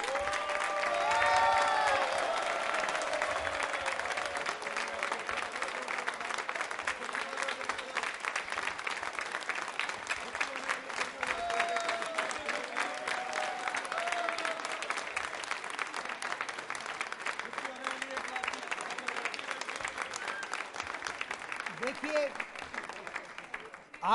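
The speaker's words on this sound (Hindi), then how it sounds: "तालियां जोरों से बजाइए आप सभी के लिए, और देखिए तालियां जोरदार।" Sustained applause from a quiz-show audience at a Diwali music-lovers event, dense steady clapping that fills the whole stretch and tapers slightly at the end.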